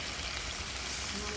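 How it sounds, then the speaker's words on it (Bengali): Mustard paste goes into a hot pan for a hilsa fish curry and sizzles steadily and loudly, a close, constant frying hiss. "আমি এবার সর্ষে বাটাটা দিয়ে দেবো।"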